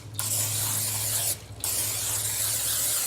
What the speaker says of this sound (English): take you some no stick spray and generously spray your skillet